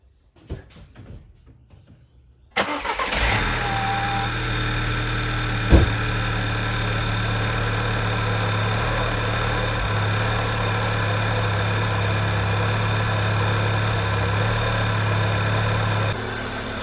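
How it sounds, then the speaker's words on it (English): An Audi A3 / VW Golf Mk6 engine cranks and catches after a quiet start, then settles into a steady, loud idle with a constant hum, running on alone after a coolant hose repair. "So what we're going to do now is start the engine"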